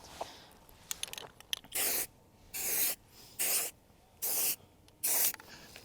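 Black spray paint is applied to a rifle in five even, rhythmic hissing bursts of roughly half a second each, close and crisp, preceded by light handling clicks and no talking.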